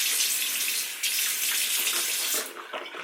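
Water runs steadily from a bathroom tap into a sink, a continuous close splashing hiss that dips briefly once and changes texture near the end.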